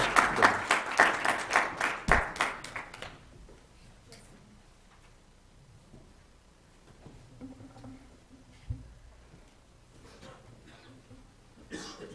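A burst of loud, rhythmic group clapping after an oath of office at a Weber County meeting lasts about three seconds, then fades into quiet room noise with scattered coughs and soft voices.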